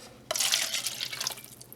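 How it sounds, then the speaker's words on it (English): Water is poured into a mold container for casting a custom head sculpt, starting abruptly with a splash and continuing as a steady close splashing, trickling pour that tapers slightly toward the end. "And then I'm going to pour this water in here"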